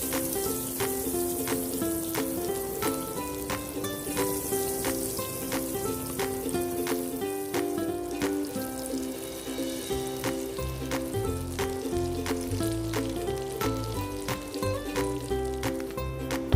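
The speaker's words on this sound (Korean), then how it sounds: "버터가 통마늘에 충분히 스며들 때까지 졸여주세요" Whole garlic cloves simmering in butter, giving a steady, close sizzle with constant fine crackling and frequent sharp pops throughout, with no voices.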